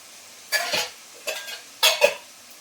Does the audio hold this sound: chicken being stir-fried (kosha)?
yes